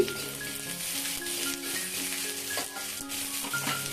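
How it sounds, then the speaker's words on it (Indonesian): Ground spice paste sautéing in oil in a pan for fried kwetiau, giving a steady soft sizzle with occasional stirring scrapes, close but fairly quiet and without speech. "ini kita tumis sebentar"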